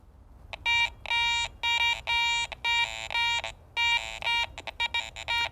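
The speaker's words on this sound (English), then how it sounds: "let's check it for iron grunts by putting our iron audio on and go back over it again." A Garrett ACE 400i metal detector in iron audio mode sweeps over a bottle cap, giving a series of clipped electronic tones in short bursts with gaps between them, fairly loud and without talk.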